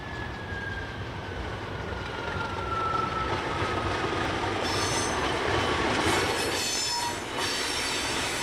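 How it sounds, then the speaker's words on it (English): A train off Tinsley Marshalling Yard rumbles past on the rails between Sheffield and Rotherham, with steady wheel noise and a high, drawn-out squeal, growing louder midway. "The train is off Tinsley Marshalling Yard, running towards Broughton Lane"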